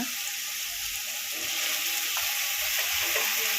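Bitter gourd pieces frying in a pan for a Kannada-style bitter gourd palya, giving a steady, close hiss of sizzling oil with faint stirring scrapes throughout and no talking.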